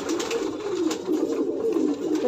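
Pigeons coo softly and steadily in their loft, a continuous low murmur of several birds with no talking over it.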